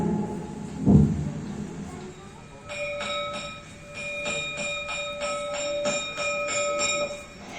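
In a stage play, a school bell rings from a distance in a rapid series of repeated metallic strikes, fairly faint and continuing for several seconds after a brief sound near the start.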